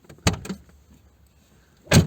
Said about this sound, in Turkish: Kapıyı kapatıyorum.